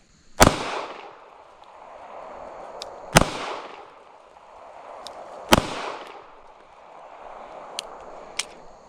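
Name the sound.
slow-fire pistol shots from S&W Bodyguard 2.0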